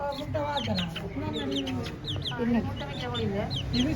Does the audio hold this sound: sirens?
no